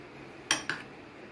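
Chicken tossed with chilli flakes and salt in a bowl gives two quick metallic clinks of a utensil against the dish, close but quiet in an otherwise still room.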